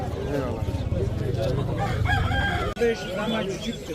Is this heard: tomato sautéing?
no